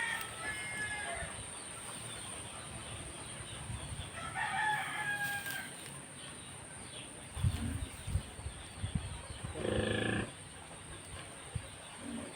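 Rhode Island chickens on a farm near rice paddies cluck and a rooster crows, faint and somewhat distant, with scattered bursts of calls over a quiet hissing background.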